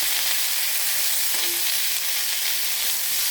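Onions frying in a pan with turmeric and salt, stirred steadily: a continuous bright sizzle fills the whole stretch at even loudness, with faint scraping from the stirring and no voices.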